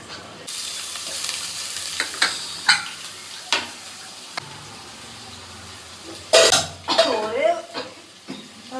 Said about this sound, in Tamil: சாம்பாருக்கு தாளிச்சிட்ருக்கேன்